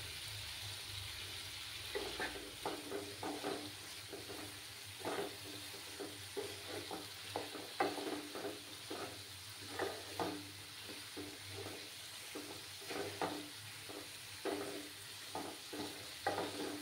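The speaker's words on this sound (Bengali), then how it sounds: "ভালো করে কষিয়ে নেব।" Spices being sautéed with salt in a pan, a spatula scraping and stirring in quick irregular strokes over a soft continuous sizzle, close and fairly quiet.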